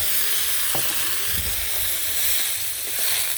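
Vegetables fry in a pan as a little liquid is poured in, making a dense, loud, continuous sizzle up close, broken by a few soft knocks of stirring.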